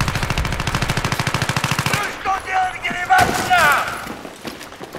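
Rapid automatic gunfire from a video game, a loud even burst of shots for about two seconds that stops abruptly, followed by quieter game effects and brief talk.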